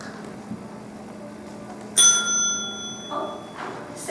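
One bright metallic bell strike rings out sharply, then its clear tones fade over a couple of seconds against a quiet room hum.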